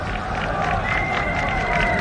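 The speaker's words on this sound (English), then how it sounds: "Joyful Indian section of the crowd." A dense, continuous roar from the Indian section of the cricket crowd at the 1983 World Cup final, loud and steady with cheering swelling throughout.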